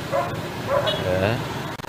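A police security dog barks outside Kisutu court, where mounted police also patrol, sending a few close yipping barks and whimpers through a busy outdoor scene as people talk nearby.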